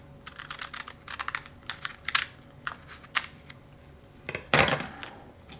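Scissors cut a piece of material for a homemade gnat trap, giving a series of sharp, close snips and clicks in irregular bursts, with a louder crunchy cut near the end.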